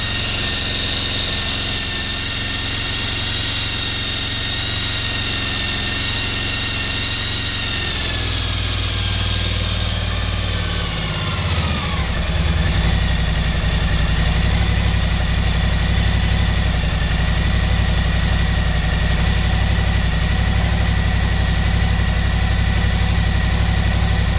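A Suzuki V-Strom 1000 DL1000 motorcycle engine idles at full operating temperature during throttle body sync, a loud steady rumble that holds high, then drops to a lower, settled idle partway through.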